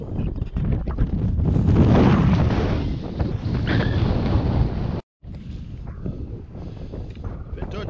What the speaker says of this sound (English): It's getting really windy and a lot colder back down that way.